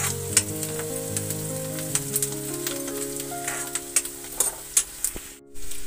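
Onions frying in a pan for a dry cauliflower and potato curry, a steady close sizzle with scattered crackles and pops throughout, then a brief drop to near silence at the end.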